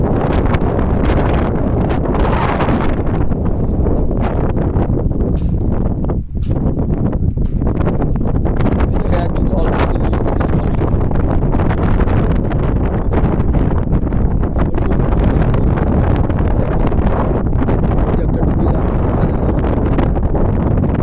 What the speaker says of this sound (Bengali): হাওয়াও আছে অনেক